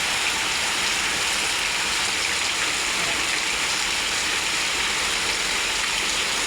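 Heavy rain pours down on leafy potted plants, a loud, thick, unbroken wash of drops filling the air, with no talking over it.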